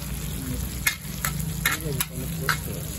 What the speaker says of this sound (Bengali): চলছে সরিষা ইলিশ ভাজি, সরিষার তেলে ইলিশ ভাজি